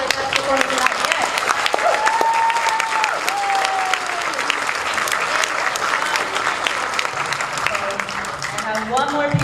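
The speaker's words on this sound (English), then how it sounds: "Let's give one more round of applause." A concert audience at a high school and middle school orchestra spring concert applauds steadily and loudly, the dense clapping continuing while voices talk over it.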